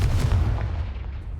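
A Confringo spell explodes in the video game Hogwarts Legacy, a loud, heavy boom that hits at once and then fades into a low rumbling tail.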